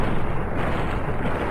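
Hunting shotgun fire in Fallout: New Vegas, a brief, dense, booming blast that fills the short moment with rumbling energy, loud and close.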